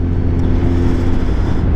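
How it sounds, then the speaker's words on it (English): An Audi car passes close by a microphone mounted on a motorcycle, giving a loud, steady engine and tyre rumble with a low whine. "Oh, that's a really nice car. I think it was an Audi or something"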